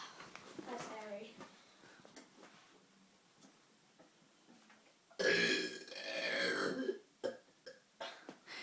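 A young boy lets out a loud, drawn-out burp lasting over a second, followed by more guttural burping, with quieter talking and small vocal noises around it.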